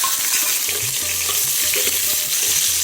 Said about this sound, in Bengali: পেঁয়াজটা খুব ভালো করে ভেজে নিই।